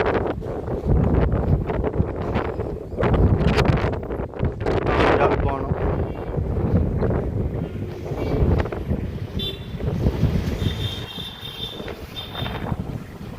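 Strong wind at Jaffna airport buffets the microphone with loud, continuous low rumbling gusts while people talk over it nearby.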